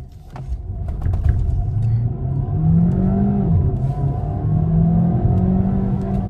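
A DS4 E-Tense pulls away from a standstill on a small coastal road with slight wheelspin at launch. The motor note climbs in pitch and grows louder over several seconds, heard from inside without speech.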